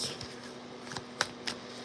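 A deck of cards being shuffled by hand: soft, faint riffling with a few sharper flicks over a low steady hiss, no voices.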